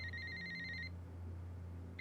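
A telephone rings in short electronic trills, one burst and then the start of the next after a pause, over a low steady hum.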